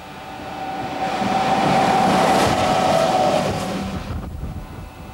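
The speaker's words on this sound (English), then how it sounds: "Electric motors slow the traveling magnetic waves until the train stops and settles back to the guideway." An Emsland maglev magnetic levitation train runs past, a smooth rushing hum that swells to a peak midway and then recedes, with a faint tonal whine and no voices.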